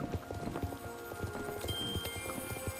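A pony's hooves clip-clop in a steady trotting rhythm in the video game Skyward Sword, faint and even with soft game ambience and no talking.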